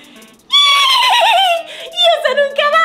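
A child imitates a horse neighing, a loud, high, wavering whinny that rises and trails off, followed by a few shorter bleating bursts, close to the mic with no other talk.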